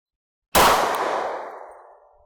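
.357 SIG pistol round striking a refrigerator downrange: a single sharp loud report with a metallic ring that decays over about two seconds, after a moment of silence.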